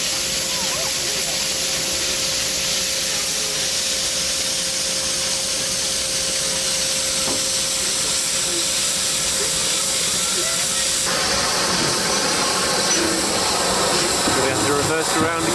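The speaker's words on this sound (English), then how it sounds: "I really like the noise of railways" Steam train on the Nene Valley heritage railway, with a broad steady hiss of steam and running noise throughout, a sustained tone in the first part, and rougher, busier clanking texture building toward the end.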